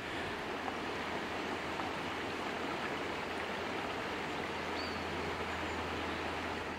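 River water flowing steadily, an even, broad rushing wash that holds constant throughout with no other sounds.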